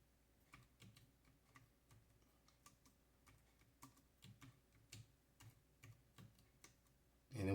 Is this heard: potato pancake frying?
no